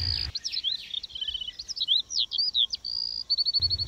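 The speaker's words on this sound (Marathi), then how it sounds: "पक्षी चिवचिवाट करू लागले." Evening birdsong of many small birds: quick chirps, trills and repeated tweets come steadily and clearly on their own, with a low rumble only at the very start and end.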